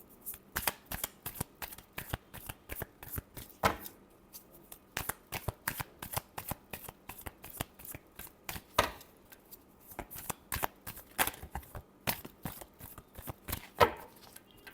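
Tarot cards shuffled steadily by hand, a fast run of crisp riffling flicks and slaps with brief pauses, close and fairly quiet, with no one speaking.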